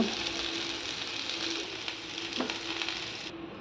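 Jackfruit pieces frying in hot oil for a potato-jackfruit curry give off a steady, close hissing sizzle, with a few faint clicks of stirring and no voices.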